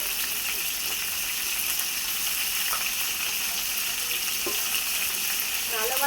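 Turmeric and chili powder fry in oil in a pan, giving a loud, continuous sizzle and crackle with faint stirring and spattering throughout.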